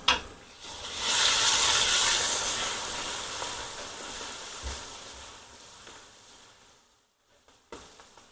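Ginger garlic paste hitting a pan of fried onions for chicken biryani, giving a loud, steady close sizzle and hiss that swells quickly and then slowly fades over several seconds, with a clatter near the end.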